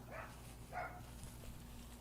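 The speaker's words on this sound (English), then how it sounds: "Excuse the barking dogs also." Dogs bark twice in the distance, short faint yaps early on and again a moment later, over a steady low indoor hum.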